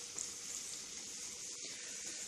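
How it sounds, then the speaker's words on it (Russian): Diced carrots and the lower parts of green onion sauté in olive oil with a steady, soft, even sizzle, a quiet continuous hiss with no talk. "Сейчас я это буду все пассеровать на оливковом масле"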